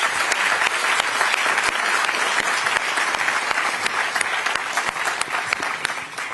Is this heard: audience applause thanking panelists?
yes